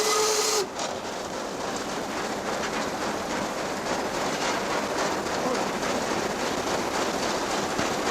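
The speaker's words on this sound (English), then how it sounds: "Sounding the whistle for a crossing." A Black Five steam locomotive gives a short whistle blast for a crossing in the rain. The whistle is cut off quickly, then the steady rumble and rattle of the moving train continues to the end.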